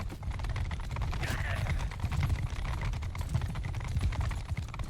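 Horses galloping in Mount & Blade II: Bannerlord, a steady rapid drumming of hooves with scattered clatter throughout, fairly faint and continuous in a game battle scene.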